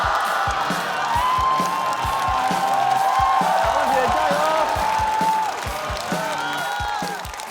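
Studio audience at a stand-up comedy show breaks into loud, sustained applause and cheering with scattered whoops, a dense crowd roar holding steady throughout and easing slightly near the end.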